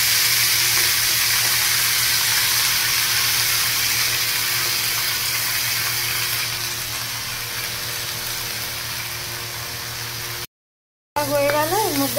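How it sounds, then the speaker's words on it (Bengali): Black cumin seeds and fenugreek greens frying in hot oil in a pan, giving a loud steady sizzle that eases slightly toward the end and then cuts out briefly. "মধ্যে কালো জিরে ফোড়ন দিয়ে দিচ্ছি, এরপরে এই মেথি শাকগুলো দিয়ে দেবো।"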